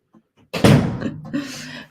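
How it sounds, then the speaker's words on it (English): A child shuts a door at home with one solid slam. A few faint soft knocks come just before it, and a short thud and rattle ring out after it. "can you shut the door for Mommy and go show Daddy?"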